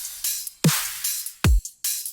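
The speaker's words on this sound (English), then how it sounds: "I'll play the drum loop for you." A dubstep drum loop sequenced in Bitwig Studio: two heavy, deep kick hits with pitch-dropping tails, separated by bright snare and hi-hat bursts, in a steady half-time pattern played loud with no voices.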